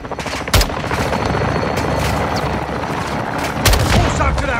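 Heavy explosions and gunfire from an air strike on a building in the Call of Duty Modern Warfare 2 campaign, with two big booming blasts near the start and end over continuous loud rattling combat noise.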